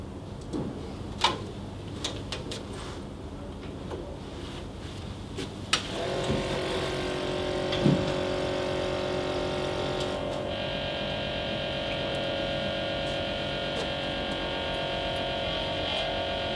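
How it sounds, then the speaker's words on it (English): Lab apparatus pressurising and vacuuming two gas vessels: a low electrical hum with faint clicks, then a sharp click switching on a steady pump-like drone that continues to the end. "I shall now pressurise and vacuum the two vessels."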